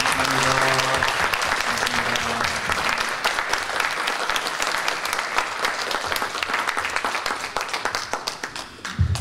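A church congregation at a Korean church in Milan claps together during a service, loud and continuous, with a brief tonal hum of music or voices underneath at the start before the clapping thins slightly.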